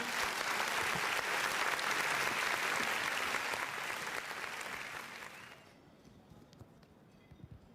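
An audience at a UAAP Season 88 basketball press conference applauds, a broad sustained wash of clapping that holds steady, then fades and cuts off into quiet room tone.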